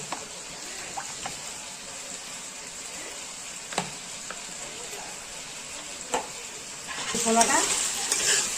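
Masala spices fry in refined white oil in a hot wok, giving a steady sizzle with occasional stirring clinks, and the hiss swells loudly near the end.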